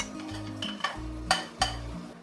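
Leftover vegetables are tipped into a pan of curried mince, with a few close scrapes and clinks of a utensil against the pan over a soft sizzle and a background music bed.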